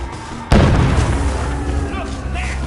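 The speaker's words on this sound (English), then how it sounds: "They're bombing us again!" A bombing explosion in the video game We Happy Few hits with a sudden loud boom, then a long rumbling tail that fades slowly while faint debris and distant noise linger.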